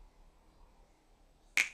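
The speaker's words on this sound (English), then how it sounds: "I just figured out how to snap my fingers." A single sharp finger snap in a cartoon rings out after a quiet, near-silent pause, crisp and close.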